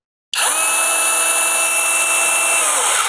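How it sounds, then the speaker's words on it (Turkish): A Dawreek cordless rotary hammer drill set to screwing mode starts abruptly and runs at a steady high-pitched whine for about three seconds, close and loud, with no talk over it. "Son olarak da kırıcı delici test ediyoruz."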